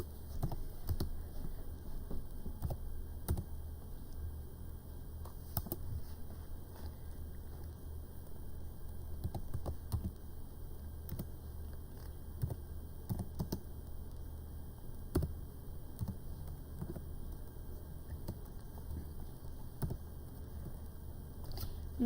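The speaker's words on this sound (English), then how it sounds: "I'm going to type in something" Sparse, irregular keystrokes on a computer keyboard, fairly faint against a steady low background hum, with scattered clicks across the whole stretch.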